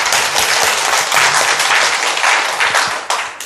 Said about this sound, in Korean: 박수로 하나님께 영광 드립니다